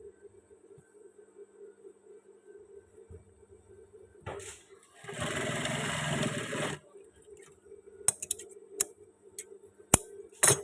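A sewing machine stitches a waistband belt loop in one steady burst of about two seconds, followed by several sharp ticks and clicks as the fabric is adjusted.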